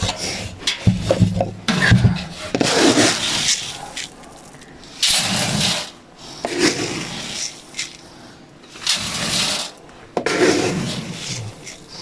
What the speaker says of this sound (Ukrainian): Зараз ми наберемо це в нашу виварку віднесемо бройлеру.